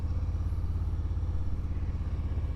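A motorcycle riding along, with a steady low engine rumble and wind noise that stays loud and constant throughout, and no voices.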